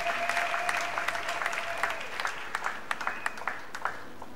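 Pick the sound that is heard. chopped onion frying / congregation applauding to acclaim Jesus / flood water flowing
congregation applauding to acclaim Jesus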